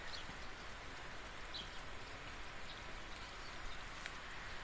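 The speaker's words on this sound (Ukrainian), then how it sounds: "Ну, шумить дощик." Steady rain patters on a surface, a soft continuous hiss with scattered drops, no voices.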